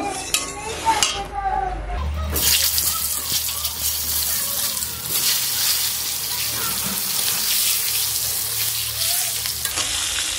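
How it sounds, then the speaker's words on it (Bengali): Eggplant pieces frying in hot oil with turmeric in a wok: a loud, dense sizzle erupts after a few clattering pan and utensil sounds, then hisses steadily up close with a voice heard faintly alongside. "হলুদ দেওয়ার পরে এবার আমি বেগুনগুলো ভেজে নেব।"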